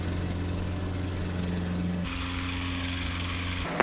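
A Lancair's piston engine runs rough in flight as a loud, steady drone with an uneven, labouring tone, shifting pitch abruptly partway through and carrying on alone with no voices.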